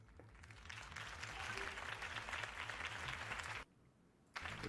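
Crowd applause in the Batman Telltale video game, a steady wash of clapping over a low rhythmic music bed that cuts off abruptly near the end, then briefly resumes.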